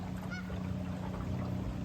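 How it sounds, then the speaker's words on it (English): Birds on a small island beach give a brief honking call near the start, set against a steady wash of wind and surf. "You guys hear the birds?"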